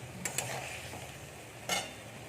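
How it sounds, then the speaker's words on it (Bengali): Fried jackfruit and potato tipped into a pan and stirred, a soft sizzle running throughout with a couple of brief scraping knocks early and another near the end, close and moderately quiet. "এবার আমরা এর মধ্যে ভেজে রাখা এঁচোড় আর আলুটা দিয়ে দেবো।"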